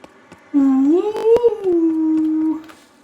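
A dog howls in one long, drawn-out wavering note lasting about two seconds, loud and close, with faint sounds from the video game The Outer Worlds before and after.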